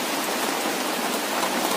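Steady, dense rain pouring down continuously, a loud even hiss of heavy drops on surfaces with no pauses.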